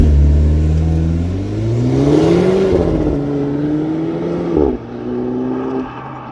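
Alfa Romeo Giulietta QV accelerating with launch control: a loud, close engine note climbs through the revs, drops briefly at a gear change, then pulls again and steadies.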